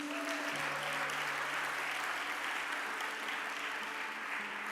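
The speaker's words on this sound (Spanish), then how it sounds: "Da un aplauso al Señor" Sustained applause from a church congregation, steady and fairly loud throughout, with faint music notes underneath.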